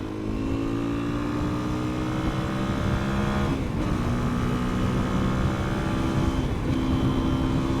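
A 2020 KTM 350 EXC-F off-road motorcycle engine drones steadily while riding in sixth gear, a loud sustained buzz with small pitch rises and falls, close to the rider, with no talking.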